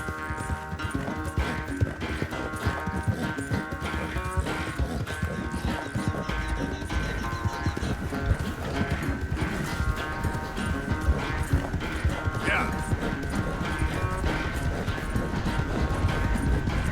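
Galloping horse hooves from the Red Dead Redemption 2 video game, a fast steady clip-clop running the whole way under a dense bed of music and game sound, with brief speech.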